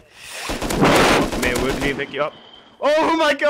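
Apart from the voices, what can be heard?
LR-300 assault rifle gunfire in the video game Rust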